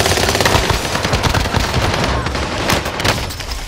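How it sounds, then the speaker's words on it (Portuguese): Call of Duty: Modern Warfare 2022 gameplay with loud, continuous automatic gunfire, dense overlapping bursts and shots filling the whole stretch at close range. "Estão atirando na gente"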